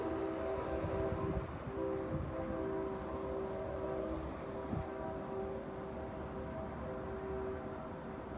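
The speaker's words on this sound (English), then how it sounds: "There's the train." A train passing at night, a steady distant rumble with sustained tonal drones running throughout, constant in level with no voices.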